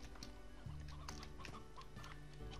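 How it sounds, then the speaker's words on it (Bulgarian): Chickens in the video game Slime Rancher cluck repeatedly in short, close bursts over a steady low background hum. "Ти кокошки, какво да ги правя,"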